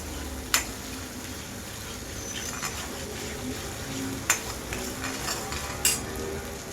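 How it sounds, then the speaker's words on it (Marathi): Masala spice paste sautés in oil in a pan for Kolhapuri-style misal. A steady sizzle runs throughout, punctuated by a few sharp scrapes and clinks of a spoon against the pan. It sounds close, with no talking. "आपण छान तेल सुटेपर्यंत मसाला परतून घेणार आहोत"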